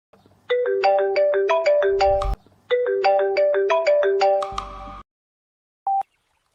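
A mobile phone ringtone plays a bright, rising electronic melody twice in quick succession, loud and close, then stops, followed by one short beep.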